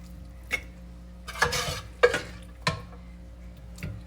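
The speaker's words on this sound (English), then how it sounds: "the peppers and the onions have cooked real nicely, so I'm gonna transfer them to here" Cooked peppers and onions for chicken fajitas are scooped out of a pan, with a few sharp scrapes and clinks of a utensil against the pan at irregular intervals over faint background hiss.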